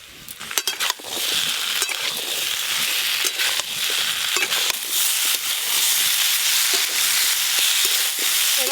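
Potato and pumpkin pieces with peas frying in a pan, a steady close sizzle and hiss running throughout with a few brief stirring scrapes and clatters near the start.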